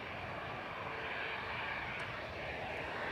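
A 16-year-old Lufthansa Airbus A319 takes off from runway 23L at Manchester Airport as a steady, faint jet roar heard from a distance, with a light breeze and no voices.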